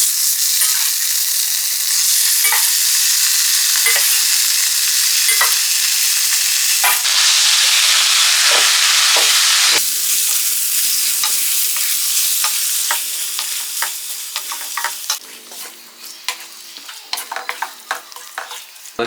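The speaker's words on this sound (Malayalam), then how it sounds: "ഒരു മീഡിയം ഫ്ലെയിമിൽ കിടന്ന് ഈ മുട്ട നന്നായിട്ട് വേഗണം കേട്ടോ." Fish eggs frying for Kerala fish egg thoran in a pan over medium flame, a loud continuous sizzle with repeated scrape-and-tap stirring strokes, the hiss easing and the stirring growing more distinct toward the end.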